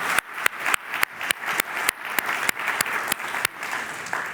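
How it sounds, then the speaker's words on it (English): Keynote audience applause, a broad wash of many hands clapping throughout, punctuated by sharp regular clicks about every third of a second, as from a metronome or camera shutter, at moderate loudness. "and a warm round of applause for Lina."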